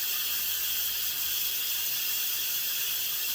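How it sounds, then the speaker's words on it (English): Steam vents from the pressure release valve of a 3-quart Instant Pot cooking mac and tomato, a steady, bright, airy hiss that holds constant throughout without a break. "the steam will come out."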